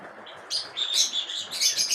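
Lovebirds with their chicks chirping in a cage setting, a busy run of high, bright tweets and calls overlapping and rising in bursts, close and fairly loud with no talking.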